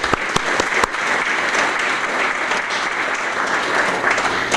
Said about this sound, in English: please join me in giving a round of applause to all of you and a grateful community